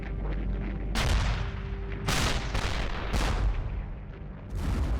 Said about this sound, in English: The heavy guns of the artillery begin their opening barrage